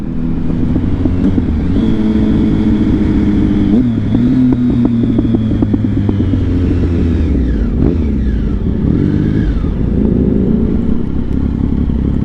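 A car drives past in a restaurant parking lot, its engine revving loud and close with rising and falling pitch as it passes, over steady traffic noise.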